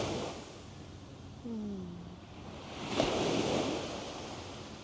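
Small wind-driven waves lapping on calm water near Vancouver, a soft continuous wash with gentle swells and light wind noise, with a faint distant tone in the background.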